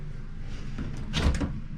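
A heavy door on a 1997 Newell motor coach swings and shuts with a brief creak and a solid thud, fairly close, in a quiet space.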